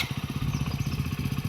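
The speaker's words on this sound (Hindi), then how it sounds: "हम बाइक लेके जा रहे हैं नीचे" A motorcycle engine runs close by with a quick, steady, thumping pulse at moderate loudness, without any talking.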